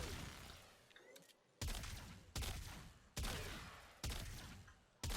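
Fulmin gun in the Warframe game firing in single semi-automatic shots, then sustained fully automatic bursts, each shot hitting with a sharp onset and a long decaying tail, loud and close, no talk.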